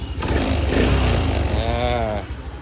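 A motorcycle engine revs loudly and close at a motorbike shop, rising to a sustained whine, then easing back toward idle, with no talk.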